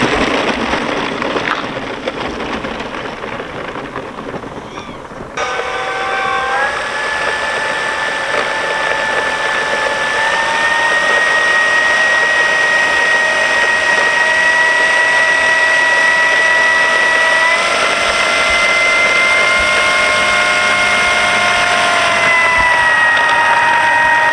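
An electric motor on a Carbon-Z T-28 RC plane in flight, flown on a 100C battery, gives a steady, loud, high-pitched whine. The whine holds constant and shifts pitch slightly partway through, after a brief quieter lead-in.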